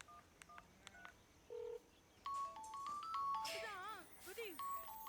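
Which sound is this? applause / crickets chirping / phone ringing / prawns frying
phone ringing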